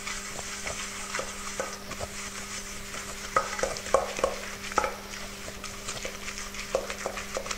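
Butter and Splenda are creamed together in a bowl for a low carb coffee and walnut cake. A utensil beats and scrapes in a steady, repeated rhythm of soft close strokes, with a faint constant hum beneath.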